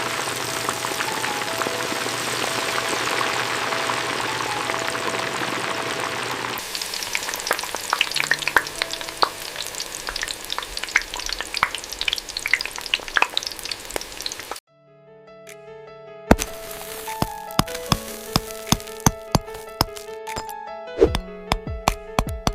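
Chicken frying in hot oil gives a dense, steady sizzle, broken by brief stirring and scraping, then a short silence before a crackling, popping fry resumes, loud and close.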